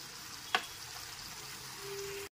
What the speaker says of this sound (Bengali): সামান্য একটু জল দিয়ে লো ফ্লেমে মশলাটাকে খুব ভালো মতো কষিয়ে নিতে হবে।